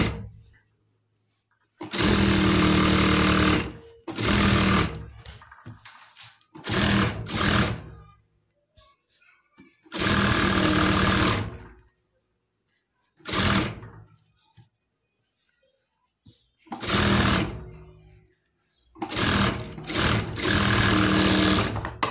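Stitching on a lehenga blouse runs in repeated loud bursts from a sewing machine, with some short and some several seconds long and near-silent pauses between them, close by and without talking.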